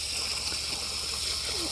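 Water from a garden hose washing through gravel, sand and clay makes a steady, even hiss and rush of spray. It runs unbroken and moderately loud, with faint gurgles underneath and no voices.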